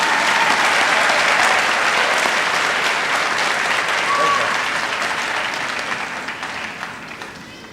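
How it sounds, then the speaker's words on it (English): A large audience at a high school awards day gives a round of applause for award recipients, loud and dense at first, then gradually thinning and fading toward the end. "Let's give them a round of applause,"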